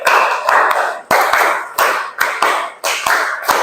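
A classroom group claps in a patterned rhythm, three rounds of five quick, sharp claps each, loud and close with brief pauses between the sets and no talking.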